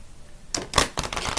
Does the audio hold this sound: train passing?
no